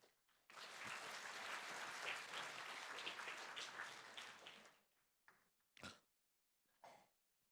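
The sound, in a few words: audience applause at a conference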